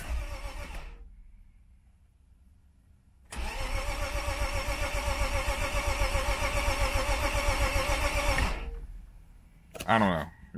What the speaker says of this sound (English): It cranks. And every once in a while it'll sputter